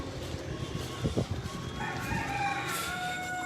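Bantam chickens crow and cluck nearby, with a rooster's rising crow standing out over busy farmyard background noise.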